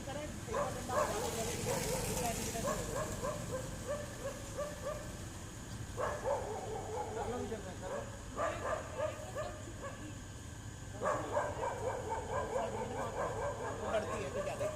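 Dogs fighting each other while a man tries to separate them, with repeated loud barks, yips and snarling bursts in clusters, heard alongside shouting voices.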